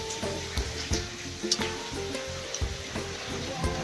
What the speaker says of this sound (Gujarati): હવે આપણે તેને ચમચાની મદદથી હલાવી અને બધી બાજુથી સરસ રીતે તળી લઈશું